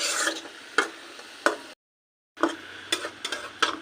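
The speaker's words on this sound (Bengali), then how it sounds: "তাই মূলার শাক ভাজি করে দিলাম।" Radish greens being stir-fried in a pan: rhythmic scraping strokes of a spatula over a soft sizzle, repeated several times with a short silent gap in between.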